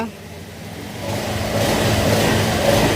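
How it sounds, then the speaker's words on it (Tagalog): A Honda motorcycle engine running after a camshaft bearing repair, a low steady mechanical hum that grows louder and fuller after the first second, with a voice speaking over it. "Tahimik na yung makina."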